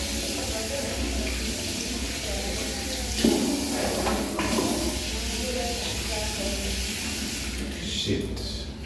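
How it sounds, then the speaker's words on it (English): Running tap water pouring steadily into a sink while hands are washed beneath it, a continuous close hiss with brief splashy changes as the hands move through the stream. "Washing of the hands."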